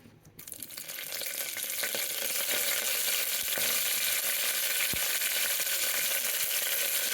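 Mustard and other tempering seeds, curry leaves and fenugreek leaves hit hot oil for cucumber dal, bursting into a loud, steady sizzle that runs unbroken, with a few faint clicks and pops.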